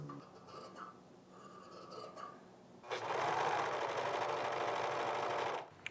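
Sewing machine stitching curling jersey fabric at a slow, steady pace, a close continuous whir of about three seconds after some quieter handling noise.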